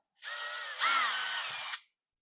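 A power drill with a 13/64 bit bores a hole through a kydex sheath, one whining burst of nearly two seconds whose pitch climbs as the bit bites in, then cuts off sharply.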